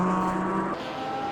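A race car engine in the video game Automobilista 2 holds a steady, loud tonal drone and then drops in pitch as the revs change, with faint tire noise underneath.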